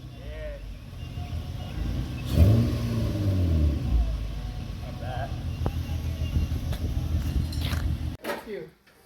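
A Lexus SC430 with a 3UZ-FE V8, custom exhaust, muffler delete and resonator swap revs up and settles with a rising and falling engine note, fairly close, while people talk nearby.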